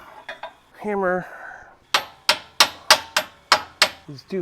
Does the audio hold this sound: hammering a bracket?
yes